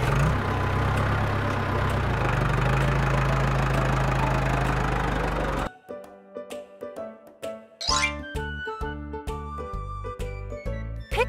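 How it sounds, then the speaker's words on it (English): A snow tractor engine idles with a steady, low, close rumble for several seconds, then cuts off and a bright chiming jingle takes over. "Snow tractor."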